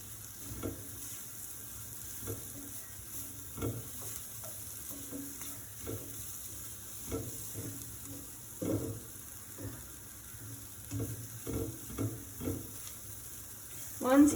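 Onions and lemongrass being stirred in a pan of spices for a vegan lemongrass coconut curry, with soft repeated scraping strokes over a low steady sizzle, close and fairly quiet.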